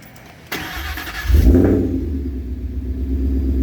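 A freshly built Ford Coyote V8 engine cranks briefly and then catches, rising to a loud rumbling start before settling into a steady, throaty idle, close by and alone.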